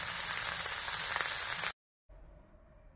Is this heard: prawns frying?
yes